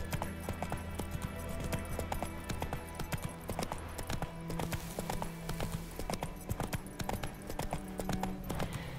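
Horse hooves clip-clop in a steady, brisk rhythm as a horse is ridden in The Witcher 3, close and clear over a low ambient bed, with no talking.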